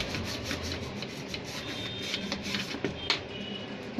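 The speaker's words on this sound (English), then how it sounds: "I'm cleaning the socket also." Soft rubbing and scraping as a desktop computer's RAM socket is cleaned of dust, a close, quiet, steady brushing texture with a few small clicks and taps.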